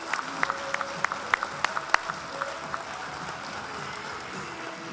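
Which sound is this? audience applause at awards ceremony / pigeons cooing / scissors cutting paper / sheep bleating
audience applause at awards ceremony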